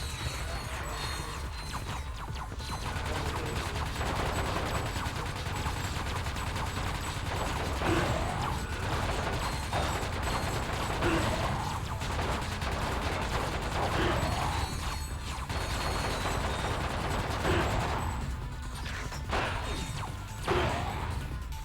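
Repeated gunfire and crashing impacts in the game Ratchet: Deadlocked, a dense stream of shots and smashes over a steady background of game noise.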